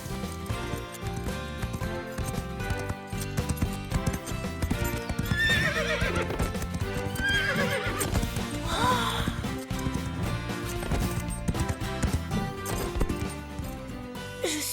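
Galloping cartoon horses with rapid clip-clop hoofbeats and a couple of high whinnies around the middle, set under a loud, busy music score that runs the whole time.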